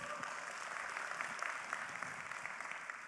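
An audience at a motivational seminar breaks into sustained applause, a dense, even wash of many hands clapping throughout, fairly quiet overall with no voice on top.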